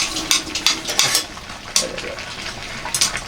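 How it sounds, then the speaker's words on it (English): An egg stirred into ramen in a hot pan: quick scraping and clinking of a utensil against the pan in short bursts, over a soft sizzle, close and fairly loud. "stir the egg so it scrambles"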